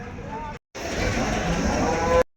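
Buffalo lowing at a livestock market in Dhanaula, heard as two loud, close, drawn-out bellows split by a brief silence, the second one longer.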